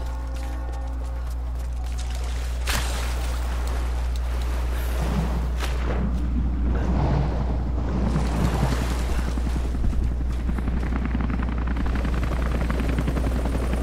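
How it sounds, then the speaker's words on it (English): Helicopter circling over the Acropolis area in Rise of the Tomb Raider, a steady low rotor drone under game ambience and a rushing wash, continuous and fairly loud, with no speech. "the helicopter is roving all over me"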